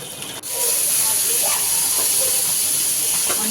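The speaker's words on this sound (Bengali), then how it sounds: "এখন পাঙ্গাস মাছটাও ভেজে নিচ্ছে আর মাংসটা নেড়ে চেড়ে দিচ্ছে বারবার।" Pangas fish fries in a pan while meat cooks alongside and is stirred. A steady, loud hiss of hot oil runs throughout, with faint clatter underneath.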